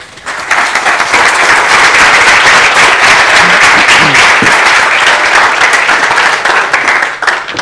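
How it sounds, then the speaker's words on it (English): A large lecture audience in Mexico City bursts into loud applause for a physics speaker, starting abruptly and continuing as a dense, sustained roar of clapping before tapering off at the end. "So let's give a huge applause for our speaker."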